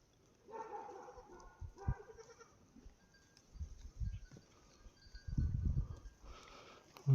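A herd of goats on an Uttarakhand hillside smallholding, bleating in scattered, fairly distant calls with low rumbles and outdoor noise between them, and a few louder bursts near the end.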